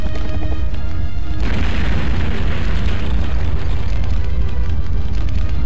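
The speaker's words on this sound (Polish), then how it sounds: "Fabryka wybuchła." A factory blows up in the Sega Dreamcast game Zombie Revenge: after a second, a loud, close boom bursts out and swells into a sustained, rumbling roar that fills the rest of the moment.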